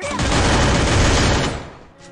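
Sustained burst of video game gunfire, loud and dense, firing continuously for about a second and a half before tailing off.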